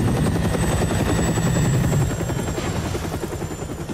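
A helicopter in Call of Duty Modern Warfare 3 drones loudly and steadily with fast rotor chop, sounding close and continuous, easing slightly in the second half.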